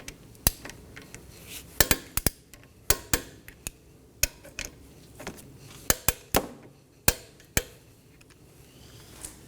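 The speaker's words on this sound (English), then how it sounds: "Now we're going to torque this down to 25 foot-pounds" Brake bolts being torqued on a 2015-2023 Nissan Maxima with a torque wrench, heard as sharp, close metallic clicks and ratchet ticks coming in irregular clusters over quiet workshop background.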